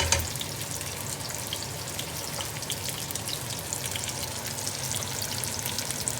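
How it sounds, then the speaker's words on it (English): Onions softening in a hot pan give off a steady, even sizzle with faint watery crackle, continuous and close for the whole stretch, with no voices. "we just want to soften the onions down"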